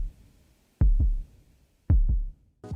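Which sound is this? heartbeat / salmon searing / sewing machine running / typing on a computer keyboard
heartbeat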